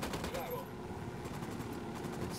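Rapid bursts of automatic gunfire in Ghost Recon Wildlands, a rattling rhythmic volley over a low background rumble, with a voice mixed in.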